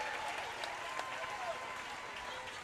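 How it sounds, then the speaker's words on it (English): Bulldog crowd at a high school basketball game applauding a player as he checks out, a steady wash of clapping throughout with some voices mixed in. "He gets a big round of applause from this Bulldog crowd."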